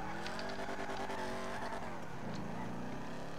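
A car driven in the video game GTA V Online, with a steady engine drone that rises and shifts in pitch, tire noise underneath, and no talk.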